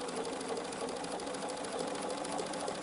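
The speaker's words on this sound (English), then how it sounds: "I'm just letting the machine pull that fabric through." Sewing machine stitching fabric along a quarter-inch seam, giving a steady, continuous close-up whir with a fast even needle rhythm and no pauses.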